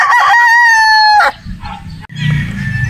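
A Boston Roundhead brood stag, bird number 4, crows once, loud and close, its long harmonic call lasting over a second, followed by low farmyard rumble and scuffling.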